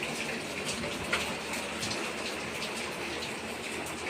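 Steady afternoon rain on a June day, a dense broadband patter and hiss that holds constant throughout with no talk over it.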